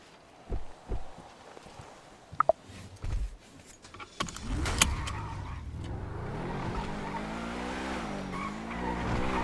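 A car being test driven in GTA V, with scattered clicks and thumps, then a rising engine roar and tire noise that builds and holds steadily at moderate loudness.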